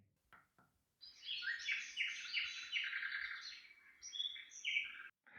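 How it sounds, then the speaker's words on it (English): Recorded birdsong from a Renpho white noise machine's nature sounds setting plays, a run of bright chirps and trills after a brief quiet start, fairly loud and piercing, with no talking. "the nature sounds with birds I find really difficult to listen to when the volume's turned up"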